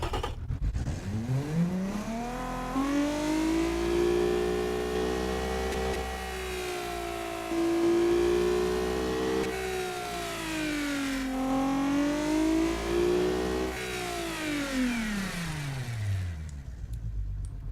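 A 2005 Subaru Impreza WRX STI in BeamNG.drive, tuned to 277 power with no turbo, revs up and down in long sweeping rises and falls, a clear, fairly loud engine sound with no talk.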